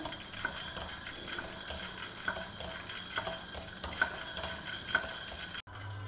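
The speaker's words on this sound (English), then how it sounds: "first I am going to take about a tablespoon of groundnuts and we will dry roast them" Groundnuts dry roast in a pan, giving a steady soft rustle with light irregular ticks and scrapes as they are stirred, and a short break near the end.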